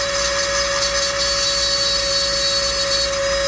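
A power tool grinds through rust on a 1967 Camaro body, a loud, steady, close whine with a sustained high-pitched tone and no pauses or talk.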